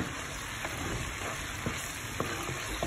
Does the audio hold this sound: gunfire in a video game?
no